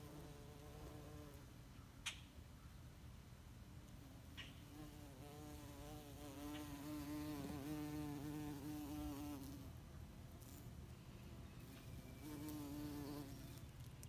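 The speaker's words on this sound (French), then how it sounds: "Entendez-vous comme ça bourdonne de partout?" Insects buzz steadily through a garden, a drone of wings hovering close by, with occasional brief ticks and a faint outdoor hum.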